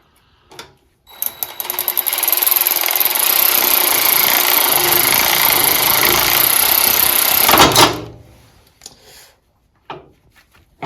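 A Wheel Horse Raider 9 garden tractor engine starts and runs steadily at close range for about seven seconds, loud and continuous with no talk, then cuts off abruptly into quiet clicks.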